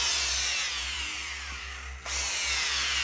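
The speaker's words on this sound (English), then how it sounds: "Sounds like a drill. Looks like a drill." A handheld power drill whirs continuously up close, loud and steady, with a brief dip in speed near the middle before spinning back up.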